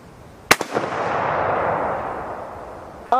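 A CZ527 rifle chambered in 7.62x39 fires a single loud, sharp shot at an outdoor range, and the report echoes and fades over a couple of seconds. A second crack starts right at the end.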